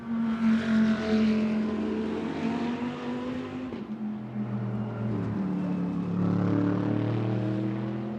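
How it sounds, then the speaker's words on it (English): Mercedes GT race cars accelerating out of Stavelot at Spa during a GT sports club race, loud engine notes rising and shifting as the cars pass and climb toward the pits, continuous roar with a change of pitch midway. "Beautiful sound as the Mercedes head out of Stavelot then, the final climb to the pit complex."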